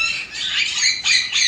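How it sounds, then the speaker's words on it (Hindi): Flock of parrots in a zoo park squawking loudly and continuously, harsh overlapping calls close by with brief dips between bursts, no talking. "और देखिए परिंदों ने कितना शोर डाला हुआ"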